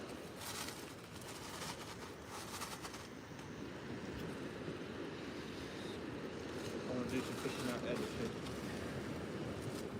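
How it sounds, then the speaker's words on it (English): Surf breaking on the shore during ray fishing on the south coast, a steady broadband wash with louder surges, close and continuous, with wind noise on the microphone and faint voices underneath. "The waves are getting bigger."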